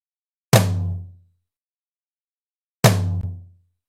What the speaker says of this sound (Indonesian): Kemudian ketuk lagi secara bersamaan tom kanan dan tom kiri sebanyak 2 kali.